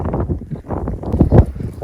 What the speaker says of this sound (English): it's really windy